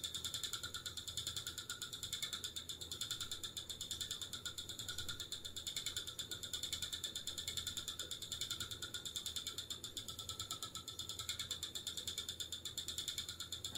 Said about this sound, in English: I haven't oiled my wheel yet. And it's making a bit of noise.